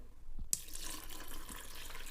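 Warm water gushes steadily from a kitchen tap while bread dough is being prepared, starting abruptly after a brief quiet moment and then running continuously, close and fairly loud, with no talking.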